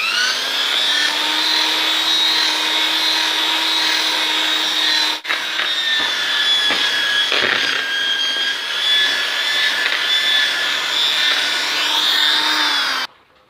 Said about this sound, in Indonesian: saya mengaduknya menggunakan bor beton dengan tuas atau stick mixer seperti ini